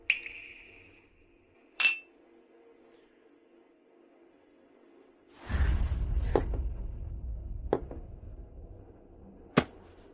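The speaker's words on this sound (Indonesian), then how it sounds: "Sebagai Patriark Lin, mari kita bersulang." Glasses clinking in a toast at a patriarch's coronation celebration: a few sharp, bright clinks spaced seconds apart over a quiet room, with a brief rustle in the middle.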